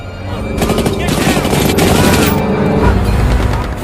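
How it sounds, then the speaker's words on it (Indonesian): Dense, continuous gunfire from a war film about German and American troops at Malmedy, a sustained loud fusillade of overlapping shots with heavy low rumble, building and holding for several seconds. "gemuruh senapan pun memanaskan suasana"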